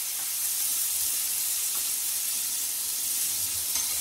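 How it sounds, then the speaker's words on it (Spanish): Chopped baby squid sizzle in a hot pan on a steady, loud broad hiss of frying that holds evenly for several seconds, with a few faint clinks in the background. "Vamos a echar un poquito de chipirones,"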